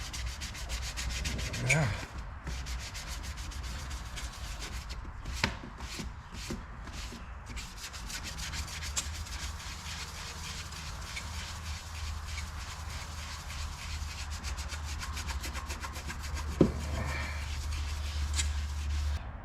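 Fine 3000-grit sandpaper rubs in repeated close strokes during maintenance on a VW MK3 Variant, a steady scratchy rhythm with a brief spoken word.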